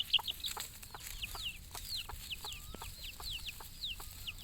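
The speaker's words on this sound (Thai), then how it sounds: "มีไก่ด้วยตรงนี้" Chickens and small chicks cheep and cluck in short, repeated high calls on a cool hilltop at Khao Phai near Pattaya, Bang Lamung, moderately close over a soft outdoor background with no talking.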